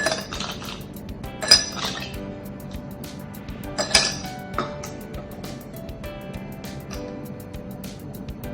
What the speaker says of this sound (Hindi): इसके अंदर हम सबसे पहले आइस डालेंगे